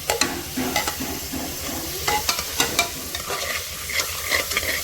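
Tomato, onion, ginger and garlic sauté in a pan for a chickpea curry, sizzling steadily while a spoon scrapes and stirs in irregular clinks throughout.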